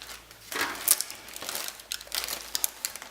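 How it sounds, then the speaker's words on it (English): Sticky tape being peeled off the wire tray of a Kogan 46L bar fridge, heard as a few short, close crinkling rips and crackles in bursts. "I'll just take this sticky tape off."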